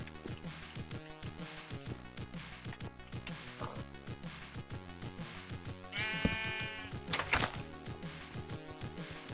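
Sheep bleat in the video game Minecraft, several bleats over music-like steady background tones, with a louder, clearer bleat near the end.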